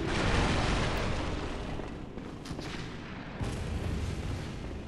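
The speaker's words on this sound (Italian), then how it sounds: "No, ci sta pure uno che spara" Enemy gunfire in Bloodborne rings out as a dense rumble of shots and blasts, loud and continuous, with sharper reports near the middle and end.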